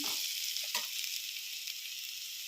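Onion fries in a pan with salt and turmeric for an egg pulusu curry. A constant bright sizzle carries a few soft stirring knocks near the start, and no one speaks.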